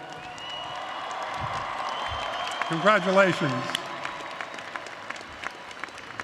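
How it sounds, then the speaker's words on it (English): Commencement ceremony audience applause at a New York City college, a broad steady wash of clapping and light cheering from a large crowd, with a voice speaking briefly over it midway. "one more big round of applause for everyone that supported getting"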